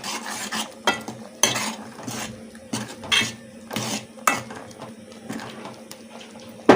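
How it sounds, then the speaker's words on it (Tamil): A spoon stirring tuvar dal and onion sambar in a metal pot, with repeated scraping and clinking strokes against the sides in an uneven rhythm, close and fairly loud, no voices. "இப்போ இதை நல்லா கலந்து விட்டுடலாம்"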